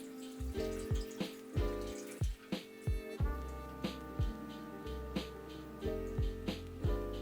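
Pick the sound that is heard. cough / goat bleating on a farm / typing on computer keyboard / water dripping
water dripping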